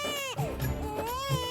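A small baby cries in repeated wailing bursts, close and loud, with short breaths between the cries and no talking over it.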